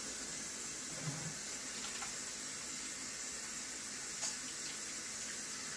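Tap water runs steadily into a sink while hands are washed under it, a constant close splashing flow with no talk.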